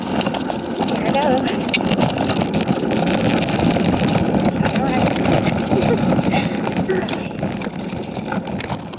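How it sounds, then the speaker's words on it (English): Cars passing on a street, a continuous rumbling engine wash of steady traffic close by, with a person talking over it. "there's a lot of cars coming"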